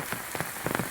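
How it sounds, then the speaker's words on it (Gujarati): Heavy rain falling on a surface outdoors during a downpour in Surat, heard as a steady close wash of drops with a few louder bursts of patter, and no voices. "કેમ કે વરસાદ તો વધી રહ્યો છે."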